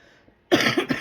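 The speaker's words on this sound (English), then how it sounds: "I have to cough occasionally." A single close cough bursts out after half a second of near silence, with a rough, breathy rattle trailing into a second smaller hack.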